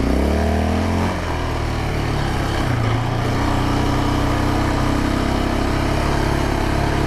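A Yamaha Raptor 700R ATV engine runs loud and close on an off-road trail, a continuous rough roar that shifts pitch slightly early on and then holds steady, with no voices.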